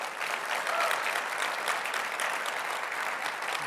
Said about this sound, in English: Let's have a round of applause for Matt Schlapp, Liz Truss, and everybody who pulled it off.